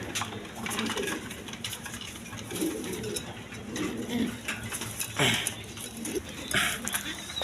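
Pigeons cooing softly nearby on a pigeon farm in repeated low murmurs, mixed with general background noise and a person talking.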